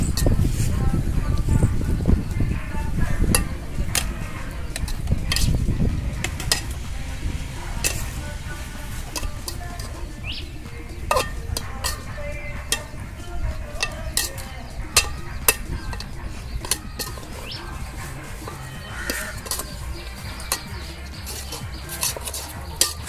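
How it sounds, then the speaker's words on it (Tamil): A cooking pot being stirred during an outdoor family trip, with coriander powder just added: soft scraping and scattered sharp clinks of a utensil against the pot, close, over a low background rumble. "சரி அப்பா கிண்டுறேன்."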